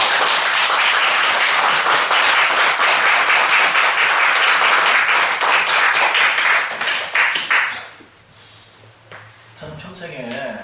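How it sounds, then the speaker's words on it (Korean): A church congregation bursts into warm, sustained applause that stays loud for about seven seconds, then fades out, leaving quieter room sound and a voice beginning to speak. "우리 박수로 뜨겁게"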